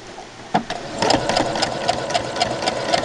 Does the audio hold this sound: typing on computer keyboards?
no